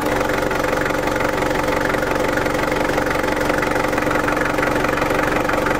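A car engine idles just after a cold start on a chilly day, a steady close mechanical rumble with an even rapid ticking pulse and no break across the whole stretch.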